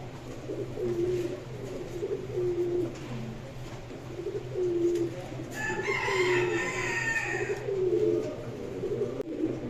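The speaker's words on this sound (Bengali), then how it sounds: "হ্যাঁ 3টাই মাদি কবুতর, আপনারা নিলে 3টাই নিতে পারবেন, 3টাই মাদি কবুতর" Several female pigeons coo in low, rolling bursts at close range, one after another throughout, with a brief higher bird call in the middle; no one talks.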